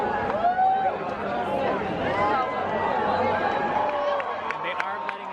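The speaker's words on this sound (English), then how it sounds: "People are cheering Star Wars, chanting Star Wars as we get right near the entrance of Galaxy's Edge." A crowd cheering and chanting "Star Wars" near the Galaxy's Edge entrance on opening day, a dense babble of many voices close by with rising shouts throughout, a steady crowd roar.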